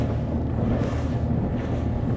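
Avon Seasport luxury tender by Zodiac planing on the water with revs past 3,700, a steady loud engine drone and rushing hull and wind noise throughout, with no talking.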